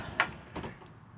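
An extra-large bedroom and bathroom entry door in a 2021 Coachmen Apex Ultra Lite 265RBSS travel trailer gives a short sharp knock or latch click, followed by a softer bump, close and brief.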